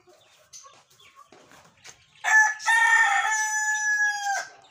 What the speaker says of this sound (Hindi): ये कुकरी अंडा देने वाली है।